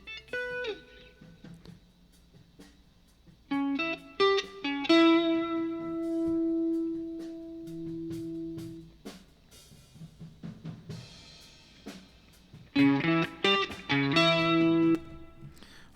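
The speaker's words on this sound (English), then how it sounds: "you hear like a little bit of a reflection and that reverb coming off to the right" An effected electric guitar in a mix, played in short phrases with sustained distorted notes trailed by a reverb reflection that lingers after each burst, with quiet gaps between phrases.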